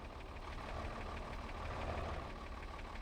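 A roughly 100-horsepower tractor engine in Farming Simulator 22 idling steadily, a low, even rumble that holds a constant, fairly quiet level throughout.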